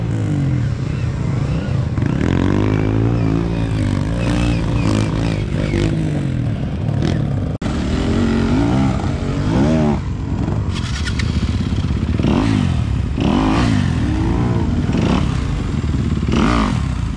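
A dirt motorcycle descends a steep, rocky and partly wet slab trail in Honduras during an extreme ride, the engine revving and idling close by amid clattering and scraping over rough ground.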